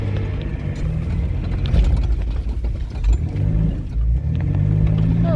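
A Chevy S10 Blazer crawling off-road over bumps, its engine droning low under repeated rattles, clunks and creaks of the body and suspension, close and continuous.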